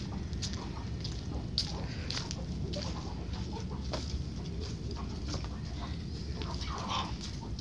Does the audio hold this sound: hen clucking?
yes